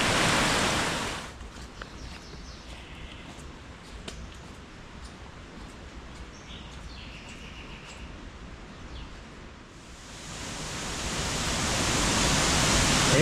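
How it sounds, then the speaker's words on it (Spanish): Steady broadband rush of water flowing down an irrigation channel near the source of the Riofrío, close and continuous, with a louder hissing surge at the start and end. "Con cuánta alegría viene el agua por la acequia."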